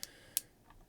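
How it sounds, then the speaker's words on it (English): A pen clicks a couple of times close up, sharp isolated ticks against a quiet background with no talk. "Sorry if I'm just clicking my pen."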